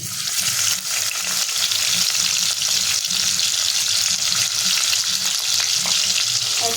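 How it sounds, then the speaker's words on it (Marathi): Whole spices and garlic fry in hot oil with a loud, steady sizzle that does not let up, close by and without any voice. "तेल गरम झालेलं आहे त्याच्यामध्ये आपण खडा मसाला टाकून घ्यायचा आहे लगेचच त्याच्यामध्ये लसूण टाकूया"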